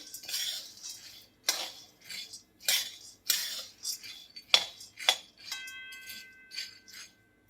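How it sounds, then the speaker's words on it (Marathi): Charoli nuts are stirred while roasting in a pan, and a metal spoon scrapes and clinks against it in quick irregular strokes, close and fairly quiet, with a few ringing taps near the end. "चारोळे भाजत असताना एकसारखं हलवत राहायचंय असं, नाहीतर ते जळतात बघा."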